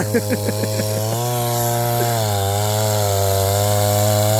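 A chainsaw cuts through wood in a Thai forest plot. Its engine sputters in short revs, then settles into a loud, continuous droning whine close to the microphone, with no talking.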